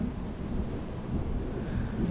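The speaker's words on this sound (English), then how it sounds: "looks like there's a storm brewing" Low rumbling thunder from an approaching storm, a steady deep roll with wind buffeting the microphone, continuous and fairly loud for the whole stretch, no voices.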